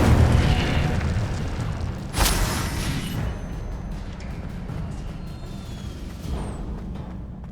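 In Hogwarts Legacy, a cast Incendio fire spell lets out a booming burst and then a rushing, crackling roar that slowly fades. A softer thump follows near the end, heard loud with no talking.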